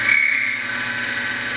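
A split point drill bit boring into brass with lubricant: a steady high-pitched whine with a low motor hum, close and constant, and no voices.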